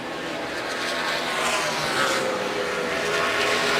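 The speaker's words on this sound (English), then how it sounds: "Now Jimmy has shut the engine off, fired it back up" A NASCAR stock car engine runs after being restarted during a 2012 championship race, with smoke and a drivetrain problem. It makes a steady, fairly loud mechanical drone that swells slightly, with no voices over it.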